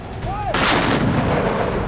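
An M777 ultralight howitzer fires once, a sudden heavy artillery boom that erupts after a brief whistling tone and rolls out into a sustained rumbling blast.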